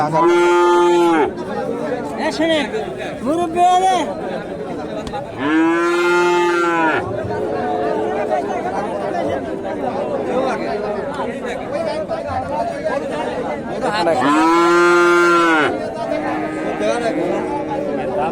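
Several loud Friesian bull moos ring out at a busy Bogura cattle market, three long calls spaced across the stretch over a steady background of crowd chatter and voices.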